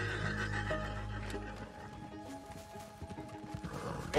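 A horse in the video game Red Dead Redemption 2 gives a loud, drawn-out neigh at the start, followed by scattered hoof and clatter sounds against a busy game soundscape.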